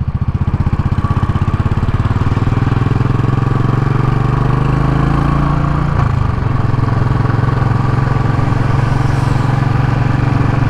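A Royal Enfield Classic 500 single-cylinder motorcycle with a booster plug fitted, on a test ride: a steady loud thumping engine note with smooth throttle, the pitch easing down partway through and then holding even.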